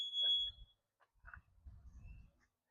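A short electronic beep sounds as a Tesla frunk closes, followed by quiet mechanical thumps and a low rumble of the lid closing.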